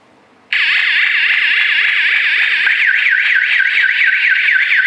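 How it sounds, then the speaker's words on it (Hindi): A home security alarm suddenly blares after a moment of quiet, a loud, continuous warbling tone that rises and falls rapidly without pause. "ये देखिए ये अलार्म बोलने लगा।"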